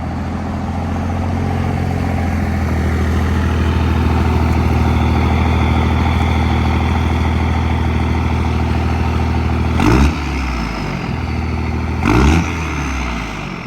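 A deep diesel engine, a Cummins in a 6-speed pickup truck fitted with a Diamond Eye 5-inch exhaust, idles steadily with a low, throbbing rumble, with two brief revs near the end.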